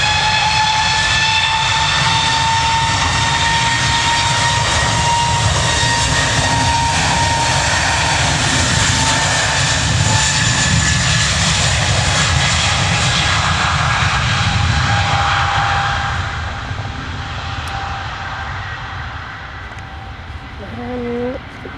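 A loud, steady jet engine roar builds as an airplane powers up for takeoff at Manchester Airport, with a high whine on top, easing off toward the end.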